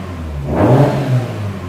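A Woolman 2.5L engine, G30-770, being repaired after a fuel rail fault, rises from a low idle into a quick close rev that swells and settles back to a steady hum, with no talk.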